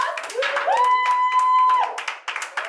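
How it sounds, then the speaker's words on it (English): An audience at a talk show season finale breaks into a round of clapping and cheering, with a sustained whooping voice riding over the claps for about a second before the noise tapers off. "Can I get a round of applause?"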